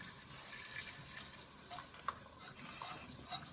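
Faint stirring of a mushroom soup mixture simmering in a pan, soft scraping and liquid swishing with a quiet sizzle, close but low in level.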